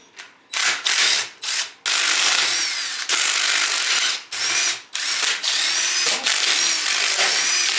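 Power tool driving off engine parts while removing an intake manifold, sounding in repeated loud whirring bursts with short pauses between them, close by and with no talk.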